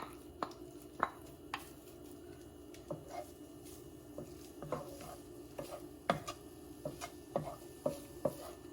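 Fish pieces are stirred into frying egg in a hot pan with scattered scraping and tapping strokes over a faint, steady sizzle, close by and fairly quiet.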